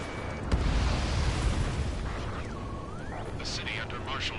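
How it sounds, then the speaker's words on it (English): Gunfire and roaring jets echo through a city under martial law in the combat flight game Ace Combat 7, a loud sustained rumble with a heavy blast near the start and whooshing passes later, with speech over it. "The city under martial law, gunfire and the roar of jets echoing through the streets."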